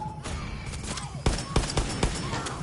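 Gunfire in the video game Far Cry 6, a handful of sharp separate shots cracking out in an irregular rhythm over a busy, noisy game background.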